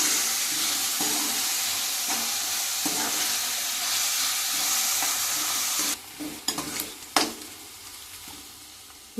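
Onion pieces frying in a pan for a potato and brinjal curry give off a steady close sizzle, with a few sharp stirring scrapes and clatters near the end.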